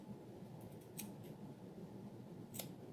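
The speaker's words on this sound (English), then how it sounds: "you'll just want to cut these little V's" Scissors snip small V-shaped notches into a fabric sewing pattern, making a few quiet, crisp cuts spaced apart over faint room noise.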